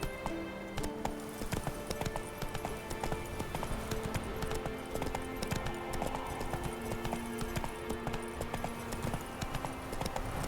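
Roach the horse gallops in The Witcher video game, with steady rapid hoofbeats and a faint whinny over a continuous layer of background music.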